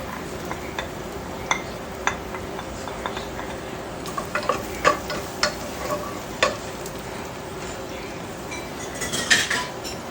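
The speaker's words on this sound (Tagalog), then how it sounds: "Pagkatapos nating mapainit ang mantika, ito po tayo gigisa po tayo ng luya." Ginger and garlic are sautéed in hot oil for chicken curry, with a soft steady sizzle under scattered clicks and scrapes of a utensil against the pan.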